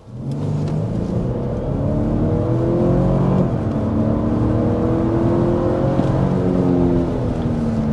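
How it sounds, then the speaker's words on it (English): A 2025 Lexus LX 700h hybrid SUV with a 457 hp powertrain accelerates hard, its engine rising in a steady, loud droning rumble that climbs in pitch throughout, heard from inside the cabin with no talk. "start by giving you a hard acceleration, because that's really one of the biggest elements about this 700H is that it has more power and more torque"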